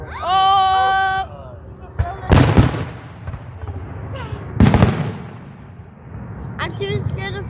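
Fireworks whistle upward with a rising tone, then two loud booming bursts crack out a couple of seconds apart, followed by faint crackling as people talk and exclaim nearby.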